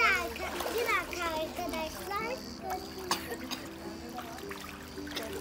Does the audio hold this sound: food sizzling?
no